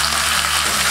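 Tomato goes into sizzling onion in a pan for tortilla soup, giving a loud, dense, close frying hiss that holds steady through the brief moment.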